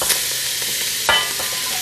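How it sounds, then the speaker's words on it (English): Beef and salt are stirred in a soup pot over heat, a loud close steady sizzle with a couple of brief scraping strokes. "Just give it a little stir"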